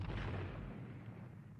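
Battlefield artillery at Waterloo firing in a heavy, rolling barrage, with deep booms at the start fading into a long rumbling decay that sounds distant.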